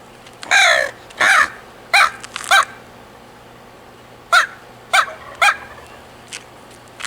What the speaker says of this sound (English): I have a Primos locating call of an owl call and crow call